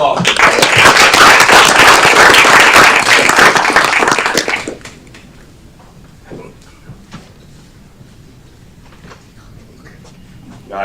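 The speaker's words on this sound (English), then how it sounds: "All right, another round of applause." A city council meeting audience breaks into dense, loud applause for about four seconds before it stops abruptly, leaving quiet room noise with a few faint voices and shuffles.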